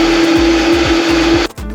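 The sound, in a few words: blender blending cooked butternut squash soup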